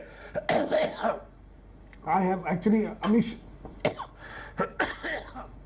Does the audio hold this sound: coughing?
yes